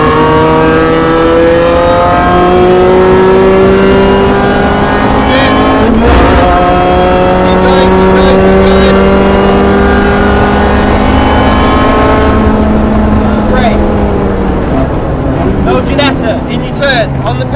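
A Mini Challenge Clubsport race car accelerates hard at Donington, its engine loud and close with rising, falling revs and gear changes while someone talks over it.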